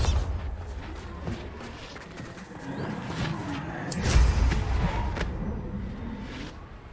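A Bombarda spell explosion in Hogwarts Legacy, a deep thudding blast rising midway through over rumbling game-combat background, with scattered smaller impacts before and after.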